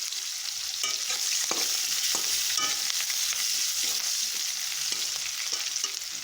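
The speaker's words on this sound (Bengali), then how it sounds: "তারপরে দিয়ে দিচ্ছি পেঁয়াজ। পেঁয়াজ দেওয়া হয়ে গেছে। এরপরে একটু নেড়ে চেড়ে নেব।" Onions frying in a pan for a Bengali rohu fish curry, a steady bright sizzle with occasional scraping strokes as they are stirred, close and constant throughout, with no voices.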